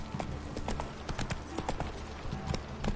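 Hooves of Roach, a horse in the video game The Witcher 3, clip-clop in a steady rhythmic gait across the ground. The strikes are close and clear, with faint game ambience beneath them.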